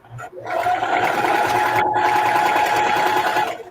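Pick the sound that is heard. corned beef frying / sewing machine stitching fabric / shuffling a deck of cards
sewing machine stitching fabric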